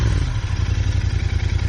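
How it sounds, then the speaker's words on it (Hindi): A Royal Enfield Interceptor 650 motorcycle engine runs after starting, a loud, close, steady parallel-twin idle with a pulsing low throb. "फिर से एक बार स्टार्ट करता हूँ।"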